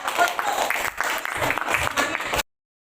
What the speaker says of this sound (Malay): kalau bersedia bagi sendiri satu tepukan diri dulu